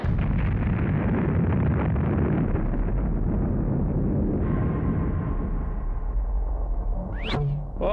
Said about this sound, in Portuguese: Olha, né, que essa bomba funciona mesmo?